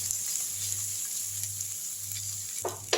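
Onions and curry leaves sauté in a pan with a steady, bright sizzle running throughout, joined near the end by a couple of short stirring scrapes.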